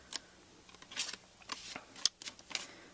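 Scissors cutting card stock along a score line for a handmade card, a series of close, crisp snips in irregular bursts with brief pauses, quiet overall and no talking.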